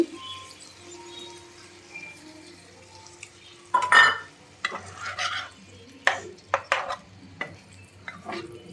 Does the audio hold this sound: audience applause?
no